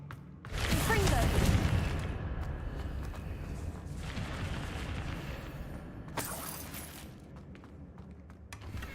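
A Confringo fire spell cast in Hogwarts Legacy bursts with a loud, broad blast, then a lower rumbling tail as other effects and a second sharp crackle sound around it.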